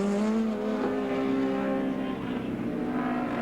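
A touring race car on its final lap at Mallala in the 1989 Australian Touring Car Championship drones past with a sustained, loud engine note that slowly shifts pitch, heard alone.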